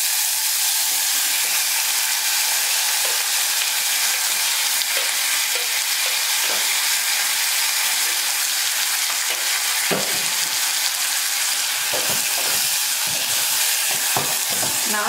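Chopped citron (narthangai) pieces and green chillies sautéing in a pan, a loud continuous hiss and crackle close up, broken by occasional soft stirring knocks.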